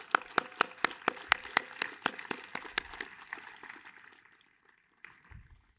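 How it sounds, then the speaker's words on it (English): Applause for a graduating class at a 2023 graduation ceremony: crisp, evenly spaced claps, several per second, that thin out and fade to near silence after about three seconds. "please join me in giving them a special warm round of applause"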